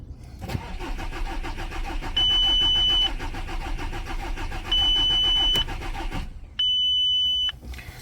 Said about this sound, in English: I just want to show you this thing cranking.